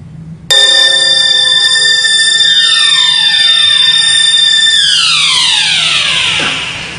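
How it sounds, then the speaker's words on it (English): A mechanical alarm clock in a scene from the 1984 film rings abruptly and loudly, a dense metallic jangle that holds steady for several seconds before winding down, with no talk over it. "Starts with an alarm clock."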